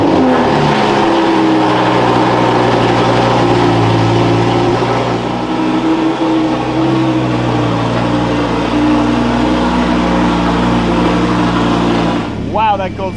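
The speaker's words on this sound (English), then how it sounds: "that cold start is crazy loud" A Lamborghini Gallardo being rebuilt fires up from a cold start and settles into a loud, steady, rumbling idle that holds close and constant, with a brief rising blip near the end.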